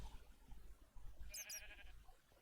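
A faint, short bleat from SCP-939 imitating a sheep in the SCP: Lockdown video game rises over low background rumble, lasting under a second.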